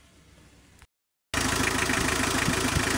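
A vehicle engine goes quiet for a moment, then turns over and catches into a loud, steady close-up idle with a rough, rhythmic mechanical throb.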